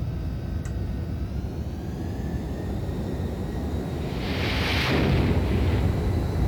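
A jet fires off a carrier catapult in the game Flight Simulator X: a steady engine roar at full military power, then a louder whooshing surge near the end as the launch begins, heard alone without speech.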